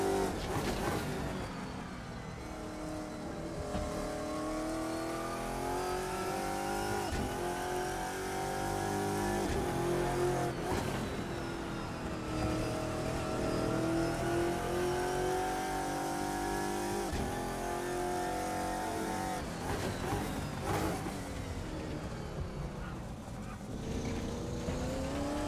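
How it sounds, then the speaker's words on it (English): A GT1 race car engine in Assetto Corsa at Laguna Seca, loud and continuous, revving up and down through gear changes with rising and falling pitch, up close throughout. "acceleration in these cars are no joke"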